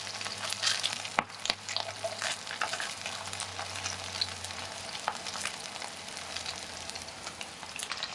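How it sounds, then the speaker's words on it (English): Spam slices frying in a pan while making Hawaiian fried rice, a steady crackling sizzle with scattered pops and a few sharper clinks, fairly quiet and close, with no talk. "You want to get the Spam brown on both sides."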